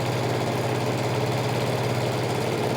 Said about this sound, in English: I'm just going to sew it right off the edge of the quilt